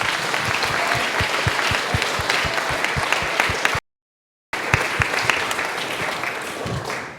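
Sustained audience applause at a technology leadership summit honoring astronaut Dr. Roger Crouch, dense and steady with a brief dropout midway, then continuing at full strength.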